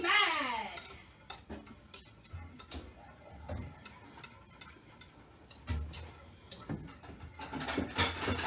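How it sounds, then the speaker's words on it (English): Utensil scraping and clinking in a pan while stirring food for a country fried steak meal, irregular soft knocks and scrapes at close range, with occasional quiet talk. "So he's going to start stirring."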